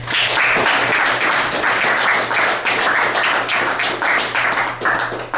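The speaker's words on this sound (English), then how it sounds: "let's give a round of applause" Steady applause fills the whole stretch, dense clapping from a crowd at close range, loud and sustained without a break.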